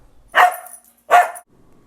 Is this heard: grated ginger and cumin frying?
no